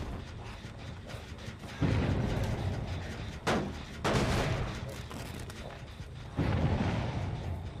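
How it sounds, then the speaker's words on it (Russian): Generators exploding in the multiplayer horror game Dead by Daylight give repeated loud muffled booms over a constant rumbling game background, with three or four distinct blasts spread across several seconds. "Хорошо, взрываются гены."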